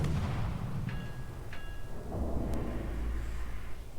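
Naval gunfire in a warship video game, heavy low booming cannon blasts with rumbling tails, a couple of sharp reports over a continuous deep roar.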